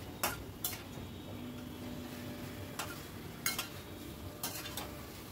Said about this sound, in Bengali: এবার ভেজে রাখার চিকেনের টুকরোগুলো দিয়ে দিলাম, দিয়ে সব কিছু আবারও খুব ভালো করে মিশিয়ে নিচ্ছি।